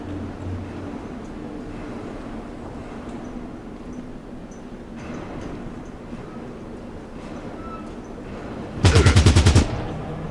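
Machine gun bursts in the video game Fallout Tactics, a steady low rumble of game ambience followed by one loud, rapid rattling burst of automatic fire lasting about a second near the end.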